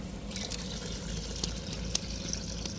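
Water pours steadily into a pot of spiced drumstick-leaf biryani base, a continuous watery trickle with a few small splashes and clinks, close by and moderately loud.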